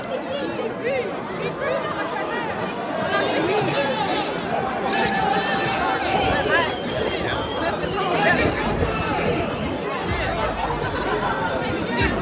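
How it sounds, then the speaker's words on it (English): Dense crowd chatter fills a street protest against a curfew in Old Montreal, many voices overlapping in a steady, close hubbub with occasional brief laughter and shouts throughout. "The crowd is building."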